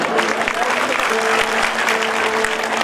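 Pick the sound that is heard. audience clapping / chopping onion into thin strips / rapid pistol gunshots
audience clapping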